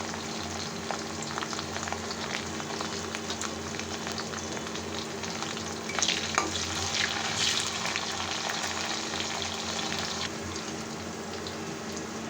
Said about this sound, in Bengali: কেটে রাখা কাঁচামরিচগুলো দিয়ে দিচ্ছি সামান্য পরিমাণ লবণ দিয়ে দিচ্ছি